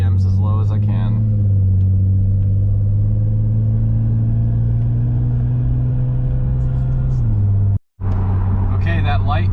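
Toyota Supra held at low RPM while driving to a gas station, a steady loud low engine drone that drops in pitch near the end, with a person talking over it.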